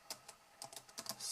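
Keys clatter on a computer keyboard as a command is typed into the Oberon operating system, a quick irregular run of crisp, close keystrokes with no talk.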